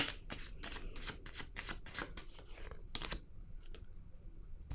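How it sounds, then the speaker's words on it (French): Tarot cards are handled and set down on a table in quick papery taps and shuffles, soft and close, with a faint high insect-like chirping in the quiet background. "je vais déposer une autre carte"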